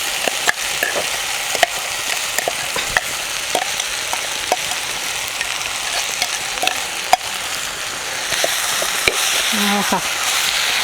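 Ground spice paste with dried shrimp sizzling and frying in a hot pan, with steady crackle and repeated sharp scraping strokes of stirring, close and fairly loud, no talk.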